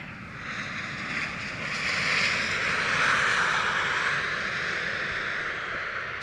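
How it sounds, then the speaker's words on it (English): Airbus A320 landing at snowy alpine Queenstown Airport, a broad steady jet roar that swells and slowly fades, moderately loud and continuous, with no one speaking. "Oh, what a beautiful landing there from the A320."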